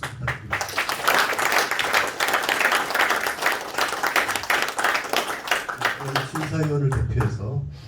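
An audience at a Korean theatre award ceremony applauds warmly for several seconds as a winner is announced. The clapping is loud and full, and a voice can be heard near the end as it fades.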